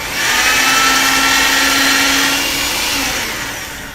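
A hand-cranked pasta machine rolling a sheet of polymer clay through at a thin setting, a steady close mechanical whir and grind lasting a few seconds before tapering off, with no talking.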